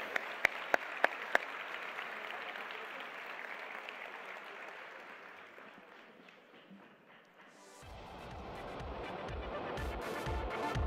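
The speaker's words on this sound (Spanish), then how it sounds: "Así que otro aplauso para ellos," Applause from an audience at a national education forum, a broad wash of clapping that runs for several seconds and gradually fades, followed by a shift to quieter room sound and movement.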